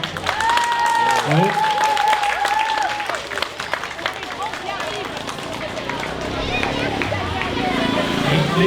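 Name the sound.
schoolchildren applauding themselves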